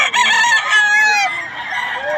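Several chickens and a rooster at a farm in Bukawi, with a rooster's drawn-out crow rising over continuous clucking and fowl chatter, close and loud throughout.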